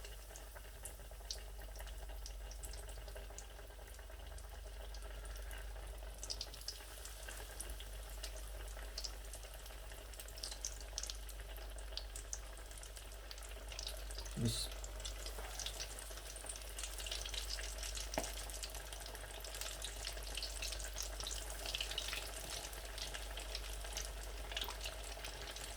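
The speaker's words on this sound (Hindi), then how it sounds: "तकरीबन 5 मिनट तक ऐसे ही नगेट्स जो हैं उनको मैं फ्राई होने दूंगा।" Vegetable nuggets fry in hot oil with a steady, fairly quiet sizzle and crackle that carries on evenly for the whole stretch, broken by a few small pops and no talking.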